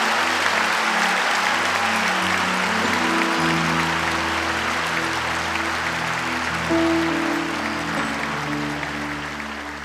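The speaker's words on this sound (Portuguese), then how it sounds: "Dê para Jesus uma bem forte salva de palmas." Church congregation at a Lagoinha Baptist evening service applauds loudly and steadily, a dense sustained wash of many hands with a held low organ or keyboard chord and faint crowd murmur underneath, tapering slightly at the end.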